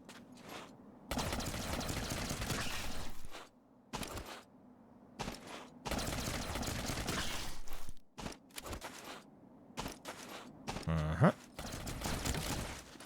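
Shooting in the Metroidvania game The Mobius Machine, with bursts of fire that start and stop repeatedly between short silences, moderately loud and fairly close.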